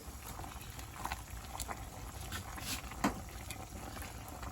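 Kale simmering in a pot of water, with a faint, steady bubbling patter, soft irregular pops and low background noise.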